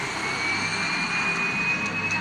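A modified DHC-5 Buffalo cargo aircraft on a tarmac gives a steady, loud turbine engine drone with a faint rising whine, constant and unbroken with no voices.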